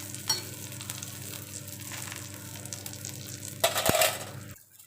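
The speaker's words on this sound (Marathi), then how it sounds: "असे पाव मी गरम करून घेणार आहे मी।" Pav bread is warmed in ghee on a hot pan, with a soft continuous sizzle, light scraping and tapping of the spatula, and a louder burst of sizzling near the end before it cuts off.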